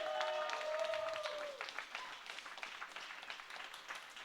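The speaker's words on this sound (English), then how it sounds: "just give them a big round of applause" A startup pitch event audience claps for the volunteers. A faint, scattered round of applause builds and then thins out, and a tonal whistle-like sound briefly rises over it early on.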